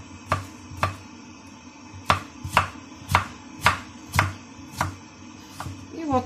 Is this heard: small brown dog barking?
no